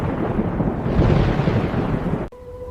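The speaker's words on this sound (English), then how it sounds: "That sound! My son, that is thunder!" Thunder rolls as a sustained, loud, broad rumble that swells midway and then cuts off abruptly, leaving a quiet tonal hum.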